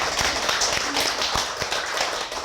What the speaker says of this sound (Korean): 힘차게 우리 박수 한번 좀 치고서 시작하겠습니다